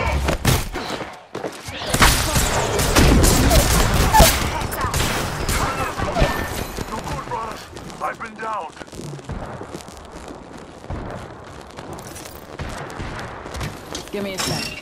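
Gunfire in the battle royale game Apex Legends, with loud rapid bursts and heavy booming shots clustered early, then thinning to scattered shots and softer combat noise under in-game voice lines.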